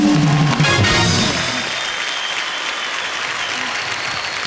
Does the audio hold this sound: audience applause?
yes